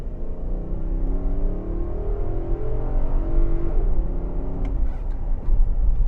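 A Nissan Patrol Royale V8 SUV accelerates hard from inside the cabin, its engine note climbing steadily in pitch through a long, loud pull with a brief shift near the end.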